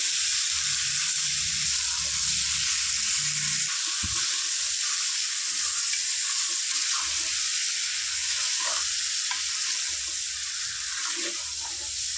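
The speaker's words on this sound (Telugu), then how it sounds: "ఇలా వాటర్ ఊరేంత వరకు మటన్ను ఫ్రై చేసుకోవాలి" Mutton sizzles steadily in hot oil until its water releases, a loud continuous hiss dotted with small pops and crackles, with faint clinking in the background.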